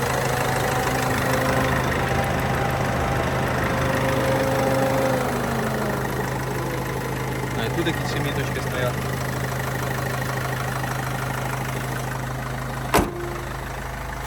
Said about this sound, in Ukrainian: Ми зараз чуємо, як автомобіль працює з кондиціонером.